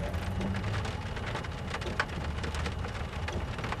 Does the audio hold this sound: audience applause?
no